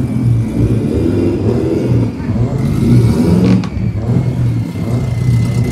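A four-wheel-drive 20-valve turbo Audi TT drag car accelerates at Santa Pod Raceway, a loud, steady engine drone with a rising, revving tone, heard under a commentator's voice.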